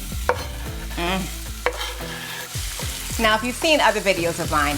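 Onions going into hot palm oil in a pan, a sharp sizzle burst followed by frying hiss and a few stirring knocks, heard beneath someone talking.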